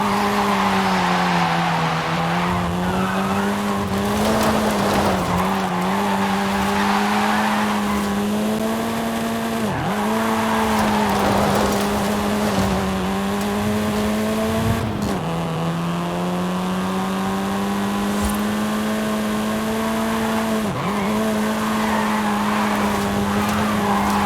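A car in Forza Horizon 5 drives continuously at a steady high engine drone, with tires squealing and skidding through repeated turns, loud and close with no talking.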